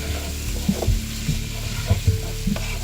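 Paprika being stirred into meat in a pan for a beef and prune stew, with soft sizzling from the fat and a few scraping spoon strokes against the pan, close and steady.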